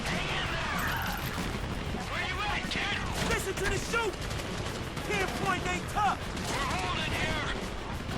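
Gunfire from a tank cannon and other weapons in the video game GTA V, with repeated loud blasts and crashing bursts over a dense, noisy game soundscape with excited talking throughout.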